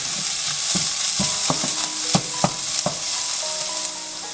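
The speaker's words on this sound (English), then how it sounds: "Mix everything well." A spoon stirs a fenugreek dumpling mixture with chili in a sizzling pan, giving irregular scraping clinks over a steady frying hiss, close by and without talk.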